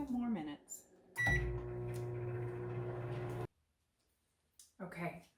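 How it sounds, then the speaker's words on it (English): A microwave oven heating Chex mix beeps, then hums with a steady electrical drone for about two seconds before cutting off, with a voice talking before and after. "Put it back back in the microwave and cook for 2 more minutes"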